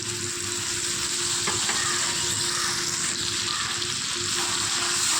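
Chicken and spice paste fry steadily in a pan with a loud, continuous sizzle and crackle, a village-style country chicken curry on the stove, with no voices.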